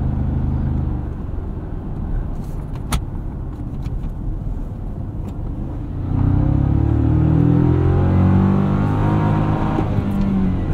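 The engine of a 2024 Toyota Tacoma pickup with an automatic transmission revs toward a redline above 6,000 RPM during a drive. A steady cabin drone swells midway into a louder, rising rumble that holds near the top of the rev range, with no talk.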